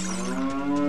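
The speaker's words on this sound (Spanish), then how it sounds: "¿Por qué hay una vaca?" Cow in the video game Zelda: Ocarina of Time gives one sustained, loud, tonal moo lasting the full second, close and alone.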